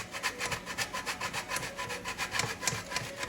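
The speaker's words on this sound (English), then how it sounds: "a quick grind of Parmesan cheese directly on the skillet" Rhythmic rasping strokes of Parmesan cheese being grated straight onto a skillet, a quick run of even scraping passes, fairly close and quiet with no voices.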